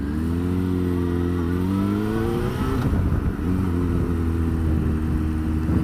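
Yamaha FZ6 600 motorcycle engine holding a steady mid-pitched drone with a slight rise and dip in revs partway through, loud and close with no talk.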